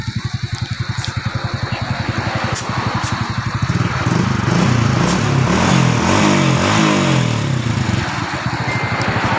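A motorcycle engine idling then revving up nearby, its rhythmic mid-range putter growing louder and rougher over steady road or wind noise, without talk.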